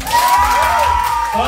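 A group at an Indonesian team event gives a brief burst of cheering and clapping, crowd shouts and whoops loud and close for a moment.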